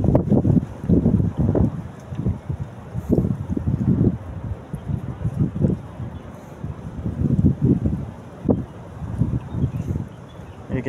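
Wind gusts buffet the microphone outdoors by a catfish pond, arriving as repeated low, rumbling blasts that swell and fade in irregular bursts.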